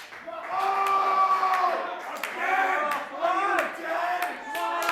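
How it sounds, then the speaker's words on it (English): A wrestling crowd cheers and chants during an indoor match, loud shouts and whoops rising and falling in waves with some clapping, close and continuous. "The audience cheering for Laurel."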